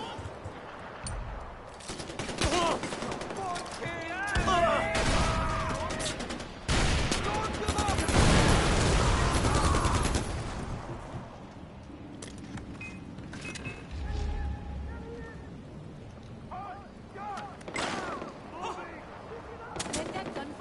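Rapid gunfire and heavy explosive blasts from a Far Cry 4 firefight, loud and dense with bursts of automatic fire, while voices shout over the chaos.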